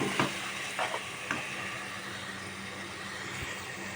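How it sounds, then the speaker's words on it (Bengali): Meat fries in hot oil in a pan, a steady sizzle broken by a few scraping stirs near the start, heard up close and fairly quiet, with no talk. "এখানে মাংসগুলো দিয়ে কিছুক্ষণ নাড়াচাড়া করবো।"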